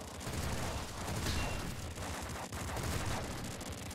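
Rapid shotgun fire in the pixel-art shooter Nuclear Throne, a dense, continuous barrage of blasts and impacts throughout with no clear gaps.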